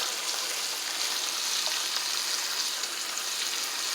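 Steady, even sizzle of ribeye steak and cabbage frying in a pan, a continuous crackling hiss with no talking.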